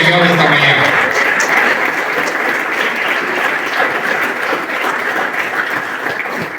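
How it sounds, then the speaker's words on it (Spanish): A church congregation at a sermon bursts into loud, sustained applause that fills the room evenly, with a voice briefly audible at the start. "Denle un aplauso al Señor esta mañana"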